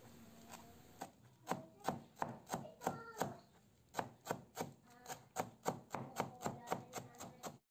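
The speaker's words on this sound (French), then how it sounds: "Je vais aussi couper la coriandre fraîche" A knife chops fresh coriander on a cutting board in roughly twenty crisp, fairly regular strokes, close and clear with no talk.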